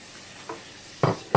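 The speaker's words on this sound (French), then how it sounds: "Dans un faitout, je vais faire revenir l'oignon haché avec 3 cuillères à soupe d'huile" Chopped onion cooking in three tablespoons of oil in a stewpot, heard as a soft sizzle broken by a few short, close stirring scrapes.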